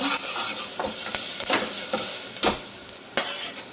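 Mushrooms fry in a pan while being stirred, giving a steady close sizzle broken by repeated scraping strokes of a spoon or spatula against the pan, with no talking.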